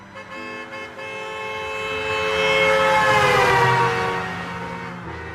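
A series bus horn blares in long sustained tones while the bus is driven recklessly, swelling louder toward the middle and then easing off, with no talking.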